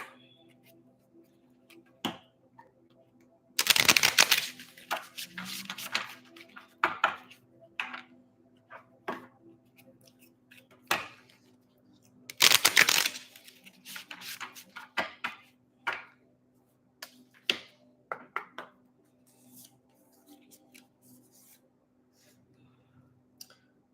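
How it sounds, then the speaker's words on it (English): Tarot cards being shuffled close by, with two bursts of riffling among scattered clicks and soft handling taps, no talking. "I want 2 more shuffles of these."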